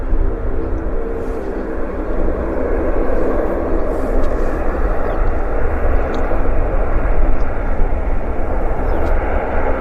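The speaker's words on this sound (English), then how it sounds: "And there's a King Air. About ready to depart on the south runway." A King Air twin turboprop medevac aircraft departs from the south runway at Vancouver airport, a loud, continuous broadband engine roar that holds steady throughout.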